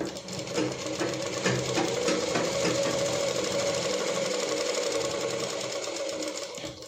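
A sewing machine stitches lehenga panels in one continuous, loud, rapid run of mechanical stitching up close, with no pauses.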